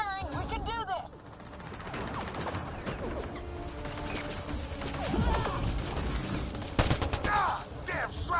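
Mixed gunfire and crashing impacts in the sci-fi game Mass Effect Andromeda, forming a dense, continuous battle din of shots, clanks and whooshing effects. Voices shout over the noise.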